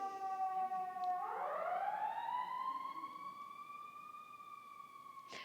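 A siren wails faintly in the distance, its pitch sliding upward and holding in a long sustained tone, with a brief click near the end.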